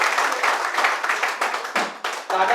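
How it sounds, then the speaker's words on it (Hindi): An audience at a hotel event claps in a short, uneven burst of many hands, fairly close and loud, fading in ragged spurts near the end. "इनके लिए जोरदार ताली हो जाए"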